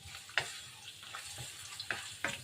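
Ginger and garlic sauté in a hot pan, a steady close sizzle broken by a few sharp ticks and crackles as the pieces are stirred, with no voices.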